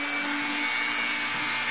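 A Dremel Multi-Pro drills into a polymer clay bead with a steady high-pitched motor whine, close and constant through the short stretch, without talk.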